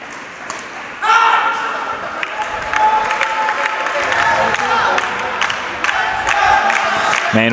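A crowd at a Dubai club badminton championship chants and cheers steadily behind a commentator's voice, swelling after the first second and carrying on as continuous background noise.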